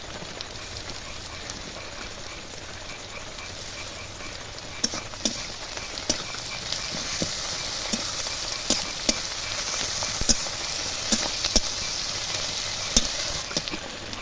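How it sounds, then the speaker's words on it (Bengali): Onion and garlic fry in a pan for a home-style chicken curry, giving a steady, close sizzle with scattered clicks from stirring and no talking. "পেঁয়াজ রসুনটা হালকা ভাজা হয়ে এসেছে"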